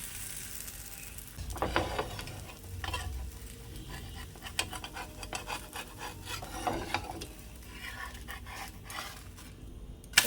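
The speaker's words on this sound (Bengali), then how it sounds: "এরকম করে প্রতিটা ভেজে ভেজে আগে তুলে রেডি করে নিই" Thin, swirled winter pitha batter frying in a pan, with soft scraping and rasping of a utensil over a low sizzle, irregular bursts close by and no voices.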